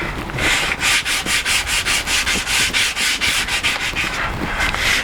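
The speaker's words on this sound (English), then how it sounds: "So how you like your brand new sanding paper?" Sandpaper rubs back and forth over a wooden bathroom sink shelf being built by hand, giving a steady, close, rhythmic scratching of even strokes with no voices.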